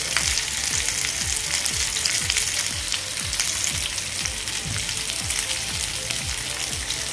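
Bangda mackerel fish frying in oil in a pan, a loud continuous sizzle with a dense crackling hiss and faint rhythmic scraping strokes throughout, close and steady with no talking.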